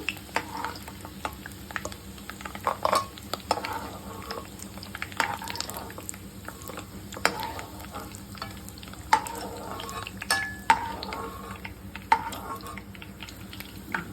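Onions and curry leaves frying in oil for a Telugu dried-fish and brinjal curry, giving a steady low sizzle with scattered stirring scrapes and occasional clinks, close and moderately quiet, with no talk.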